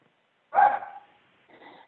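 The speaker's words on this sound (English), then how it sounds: "And my dog is just out of control," A pet dog lets out one loud, close bark followed by a softer second yelp about a second later, heard indoors during a remote meeting.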